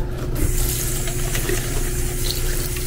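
Tap water runs steadily into a container at close range, a continuous splashing hiss lasting the whole moment with no talk over it.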